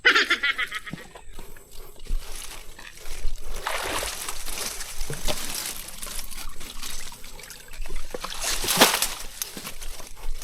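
Shallow water trickling and sloshing in a fishing spot, uneven splashes and dribbles that swell and fade in bursts, fairly close, with no voices over it.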